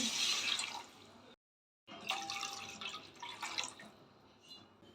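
Water splashes and trickles into a cooking pan in two bursts separated by a brief silence, close and moderately loud: two tumblers of water for vermicelli.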